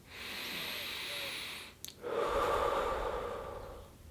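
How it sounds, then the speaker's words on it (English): Slow, deep breath taken in a quiet room: a soft hissing inhale, a brief catch, then a longer, fuller airy exhale, close and gentle. "let's take a nice presence breath together"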